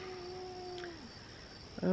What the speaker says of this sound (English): we gotta stand off with the cats